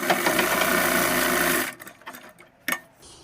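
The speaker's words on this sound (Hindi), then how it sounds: "यहाँ पर हम जो हमने जिप लगाई हुई है उस पर हम सिलाई लगा लेंगे" Sewing machine stitching over a zipper on a pair of half-elastic pants, a loud steady mechanical whir for about a second and a half, then stopping, followed by a few quiet clicks and one sharp knock.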